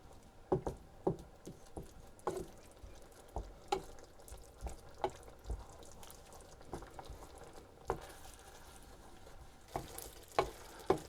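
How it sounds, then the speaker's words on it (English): Sausage casserole sauce with beef stock bubbling at a boil while being stirred, soft continuous simmer with irregular light pops and spoon scrapes, fairly quiet. "And we're going to bring that to the boil. Stirring continuously until it thickens up."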